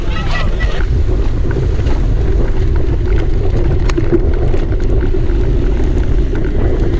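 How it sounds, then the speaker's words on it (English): A motorcycle engine drones steadily and loudly under heavy wind rush, with no clear revving, as the bike rolls along during an endurance race. "Rolling start on the motorcycle."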